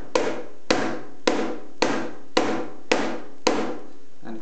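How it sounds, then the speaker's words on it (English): Loud cajon for rock playing, struck in seven evenly spaced hits, each a sharp snare crack over a deep bass thump that rings out briefly, close and with no voices. "You can hear that there's quite a crack from the snare."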